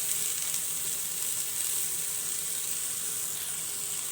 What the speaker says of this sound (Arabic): انا هضيف عندي معلقه زيت زيتون كده بالشكل ده عشان يتحمر معايا حلو